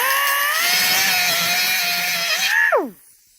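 A cutting wheel slicing a stud out of car body sheet metal makes a loud, steady high-pitched whine for over two seconds, then the tone drops sharply as the tool spins down into silence.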